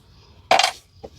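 Two house keys clink in a brief bright jingle, followed a moment later by a softer second clink, close by against a low background hum.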